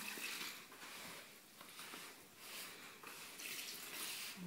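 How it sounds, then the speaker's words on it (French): Water pours into bread dough for Arabic matlouh bread, a faint steady trickle and splash with soft patter, quiet and close throughout. "On n'hésite pas, hein, on met l'eau."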